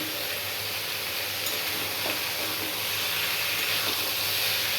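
Soy chunks sizzling in a hot pan for a soya curry, a loud steady hiss and crackle with light stirring scrapes, close and continuous.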